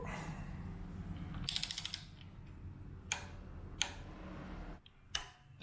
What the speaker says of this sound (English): so got my torque wrench, and time to torque it